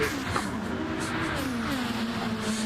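A race car engine in a sim racing video game drones steadily through a chicane, pitch dipping under braking and then climbing again on the power, continuous and close with no talk.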